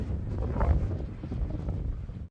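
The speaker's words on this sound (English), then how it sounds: "Windy." Wind gusts across the microphone outdoors during a hike in the Ingram Valley, a loud, rough buffeting rumble that sways in strength and cuts off abruptly at the end.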